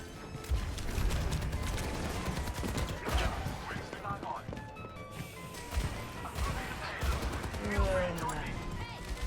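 Enemy gunfire aimed at Reaper in Overwatch 2 rattles in rapid, near bursts mixed with mechanical clatter and impacts, running continuously with a voice talking over it.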